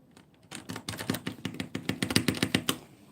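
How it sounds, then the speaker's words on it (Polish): Rapid clicking of a brother's computer keyboard, a quick irregular run of close, light keystrokes that grows denser and louder before stopping, with no talk. "jakby ASMR klawiatury mojego brata"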